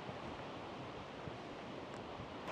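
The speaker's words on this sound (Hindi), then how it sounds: "ये पानी आ रहा है ऊपर की तरफ से, रेगुलर पानी चल ही रहा है भाई" Spring water running steadily down a mountainside near Tehran, a continuous broad rushing wash heard close and alone, with no voices over it.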